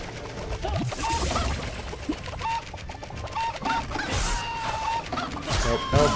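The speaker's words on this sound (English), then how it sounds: "I swear if I die to chickens, I'm gonna be quite upset." Chickens in a video game cluck and squawk repeatedly over a busy background of game noise, the calls scattered and fairly faint.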